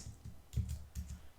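A web address being typed on a computer keyboard, a quick run of soft, close key clicks in an irregular rhythm.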